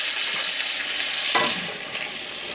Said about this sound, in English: continue to just toss them, stir fry them until they are the consistency that you like